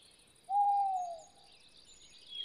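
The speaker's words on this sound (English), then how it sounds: "Oh, I just heard an owl hooting." An owl in the video game Blood in the Olden Times gives a single soft, drawn-out hoot against quiet ambience, with faint bird chirps in the distance and no speech.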